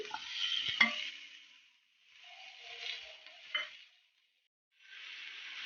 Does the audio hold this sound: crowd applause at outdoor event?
no